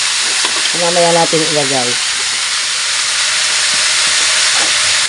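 Pork for estofado hits a hot pan and fries with a loud, continuous bright hiss that fills the whole stretch, while a voice speaks briefly over it near the start.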